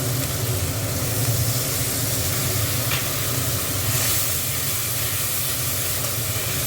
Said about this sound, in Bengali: মশলাটা কষে নিই ভালো করে।